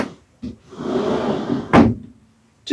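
A large toilet door inside an Adria Supersonic A-class motorhome swings round and shuts with a single clear thud near the end, after a soft rubbing and knocking of the door moving, close and alone with no talk.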